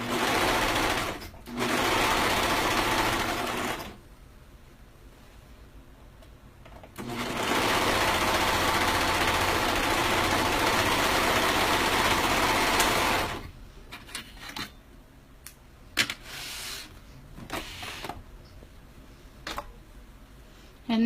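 A sewing machine sews on a garment neckband in two long loud runs with a quieter gap between, followed by scattered clicks and handling sounds.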